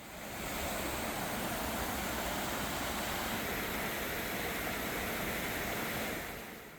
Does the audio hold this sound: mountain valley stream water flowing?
yes